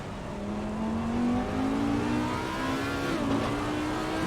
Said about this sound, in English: Lovely sounding car.